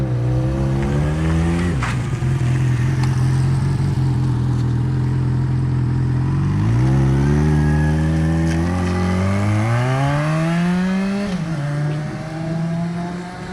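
A motorcycle is ridden past at close range: the engine drones steadily, drops briefly as it shifts, then climbs in pitch as the rider accelerates and pulls away. No one speaks.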